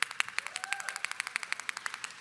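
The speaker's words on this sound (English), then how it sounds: "please clap your clappers" Small handheld plastic clappers rattled by an audience at a child nutrition conference session, a steady run of sharp, evenly spaced clacks, fairly faint and distant, with no talk over them.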